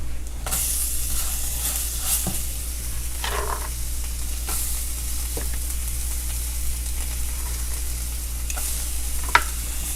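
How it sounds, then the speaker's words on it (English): Onions browning together with rice in a pan, giving a steady, close sizzle and hiss broken by occasional stirring scrapes. "And then you're going to brown your onions with the rice."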